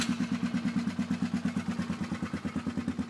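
A 2012 Polaris Sportsman 500 ATV with a homemade custom exhaust idles steadily nearby, a loping, regular thump pulsing about six times a second, low and throaty with no other sound.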